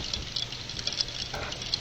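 Heavy wind-driven rain from Hurricane Matthew hammers down in a steady, dense patter with brief gusting swells, close and continuous with no voices.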